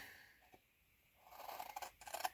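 Scissors snip through wine bottle holder material to cut small squares, a quiet start followed by several close, crisp cutting strokes.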